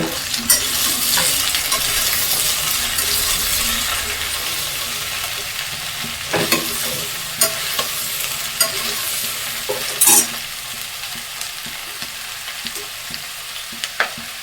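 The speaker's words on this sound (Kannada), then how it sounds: "ಬೀನ್ಸು, ಕ್ಯಾರೆಟು ಮತ್ತು ಆಲೂಗಡ್ಡೆ ಇದು 3 ಸ್ವಲ್ಪ ಹೊತ್ತು ಫ್ರೈ ಮಾಡ್ಕೊಳ್ತೀನಿ" Beans, carrots and potatoes frying in a pan, a steady loud sizzle with occasional stirring scrapes and clinks throughout.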